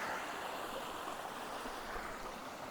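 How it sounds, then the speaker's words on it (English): Small cascades at Hidden Falls in Canberra, Australia rush with a steady, close, full-bodied hiss of flowing water, with no voices. "so we've got these nice little cascades here as a leading line"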